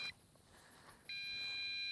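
Low-battery warning from an MJX Bugs 5W GPS drone: a short high electronic beep, a pause, then a steady sustained tone, fairly faint and heard alone.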